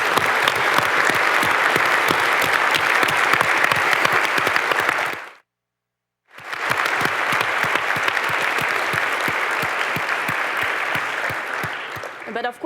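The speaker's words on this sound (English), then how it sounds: "we could acknowledge him and clap for him" An audience at a J-PAL anniversary event applauds Iqbal, dense, sustained clapping that cuts out abruptly midway, then resumes just as strongly before easing off, with a voice heard briefly near the end.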